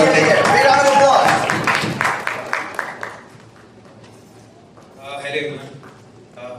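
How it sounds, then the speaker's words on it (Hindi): Audience at a TV show launch event gives a loud round of applause, a dense burst that breaks into separate claps and fades after a few seconds, followed by a quieter stretch and a brief voice. "Big round of applause."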